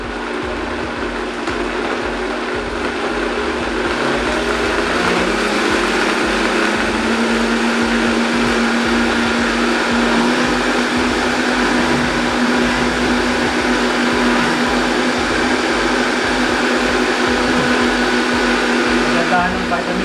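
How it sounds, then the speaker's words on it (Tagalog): A Vitamix blender roars continuously at high speed making a moringa smoothie, a loud, steady motor whine with a grinding buzz, running close and unbroken. "Ganda ng vitamix, napakalakas ito ng blender na to"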